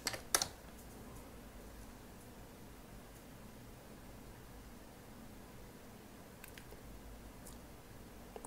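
Faint keystrokes on a computer keyboard as a password is typed: a quick cluster of clicks at the start, then a few more taps later over quiet background hiss.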